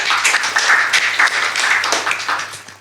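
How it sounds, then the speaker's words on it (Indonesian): A crowd claps in a burst of applause at a live comedy show, many hands at once, loud and fairly close, without anyone speaking. "Tepuk tangan dulu buat Nasdem."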